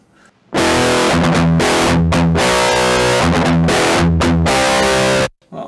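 Electric guitar through an Ignite Amps Emissary amp simulator with no cabinet attached, giving a loud, harsh, fizzy distorted tone of chugging chords and short pauses, played alone.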